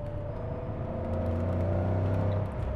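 Porsche 928 GT with its 330-horsepower V8 drones steadily from inside the moving car, a low, even engine hum that swells a little louder toward the end, with no talking.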